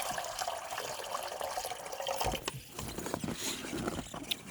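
Hot water pours and splashes into a rabbit's water container in freezing winter weather, a faint continuous gush with a few small clanks from the container.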